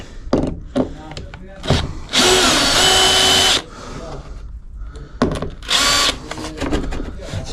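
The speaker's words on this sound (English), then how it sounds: "let's just undo them screws guys, so we can pull this out a little bit" A power drill backs screws out of fittings during a narrowboat refurbishment: two long, loud whining bursts and a shorter later one, close by, with clicks, knocks and handling noise between them.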